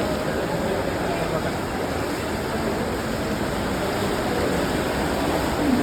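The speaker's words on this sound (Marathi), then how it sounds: "रबाळे स्टेशनवर पाणी भरलं आहे बघा, गता पाणी भरलं आहे." Floodwater at a flooded Rabale railway station, a continuous dense wash of moving water with a steady, loud rushing texture, unbroken throughout and without talk.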